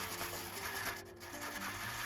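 Soft, steady rubbing of sandpaper against a silver pendant, a quiet continuous scratchy friction close by, with no voices.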